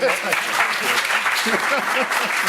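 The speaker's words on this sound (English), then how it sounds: "Do you want to do a clap for Henk to say hello?" Audience members at a Drupal community camp clap to greet a presenter, a dense burst of applause heard alongside voices talking and calling out over it throughout.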